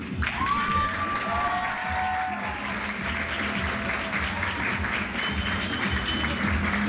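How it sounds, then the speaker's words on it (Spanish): An audience at a flamenco school's cultural evening gives sustained, full applause with a few cheers, and a voice briefly calls out over it near the beginning. "Y le queremos dar un fuerte aplauso a nuestra directora general, Yogersa Lemus."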